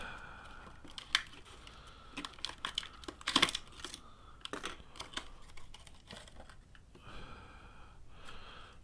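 Nintendo 64 item package being opened by hand without scissors: close crinkling and tearing of packaging in irregular bursts, with a loud rip in the middle and softer rustles and breaths around it.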